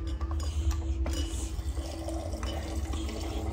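Water pours from a refrigerator door dispenser in a steady, quiet stream, filling a container with a soft, continuous trickle and no talking.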